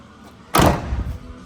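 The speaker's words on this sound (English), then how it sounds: "doors shut good" A single solid door thud of a 1974 Dodge Challenger shuts loudly, with a short rumbling decay afterward, then quiet.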